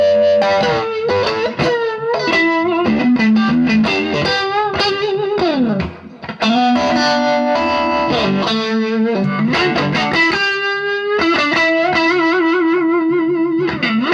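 An electric guitar played through a Strymon Flint reverb and tremolo pedal rings out in sustained, sliding melodic notes, loud and continuous with a brief dip midway and no talk.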